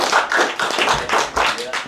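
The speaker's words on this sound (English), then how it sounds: "Give a round of applause, y'all." An audience at a spoken-word writing session claps in a round of applause, with bursts of hand claps rising and falling in quick uneven waves, fairly close.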